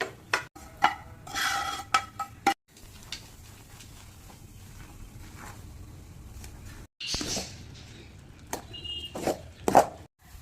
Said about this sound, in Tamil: இப்போ அந்த மாவு கூட இதை எடுத்து கலக்கிக்கலாம்